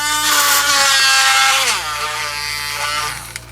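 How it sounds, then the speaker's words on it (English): A small Dremel rotary tool whines loudly at high speed while carving a damaged joint in an SH MonsterArts Shin Godzilla figure, its pitch dipping as it bites, close and continuous. "So I have my little trusty Dremel."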